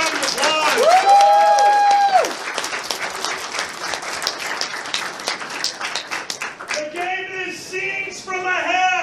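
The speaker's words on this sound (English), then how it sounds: "give all your panelists a round of applause" Audience applause for the panelists at a furry convention charity comedy panel, loud and sustained for several seconds, with a host's voice speaking over it and laughter-like crowd noise mixed in.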